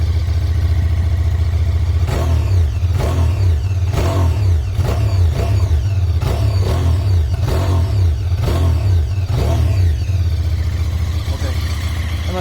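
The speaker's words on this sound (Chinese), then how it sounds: "整体呢就是一个比较安静的270度曲轴的一个双缸机器的声音" A QJmotor SRK 550 motorcycle with a 270-degree crankshaft parallel-twin engine is revved repeatedly, its exhaust sounding fairly quiet beside loud mechanical engine noise, in a steady series of close, strong throttle blips over a rumbling idle.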